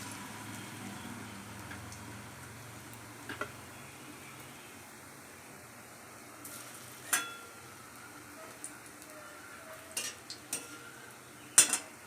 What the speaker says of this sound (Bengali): খুন্তি দিয়ে এপিট ওপিট করে নেড়ে নিলাম, এদিক ওদিক করে সমস্ত দিকটা ভেজে নিলাম।